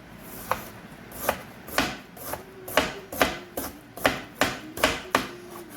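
Kitchen knife chopping an onion on a board, about a dozen crisp, fairly even chops in a steady rhythm, close and clear with no talk.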